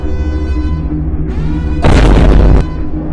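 A loud explosive blast from a rocket launcher in a video game, a harsh burst of roughly a second that cuts through a steady droning musical background.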